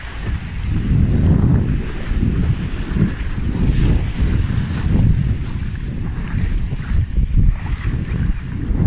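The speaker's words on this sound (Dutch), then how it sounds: "deze golven zijn wel heftig" Strong sea waves crash and roll onto a beach in a steady, loud roar, with gusting wind buffeting the microphone throughout and no voices.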